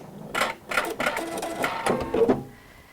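A PFAFF creative icon sewing machine stitches in short bursts of rapid mechanical clatter that stop and restart several times, close and moderately quiet, with no voices.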